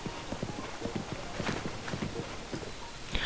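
Epona, a horse in Zelda: Breath of the Wild, clip-clops steadily at a walk, its hoofbeats close and fairly loud over a continuous hiss of game background noise.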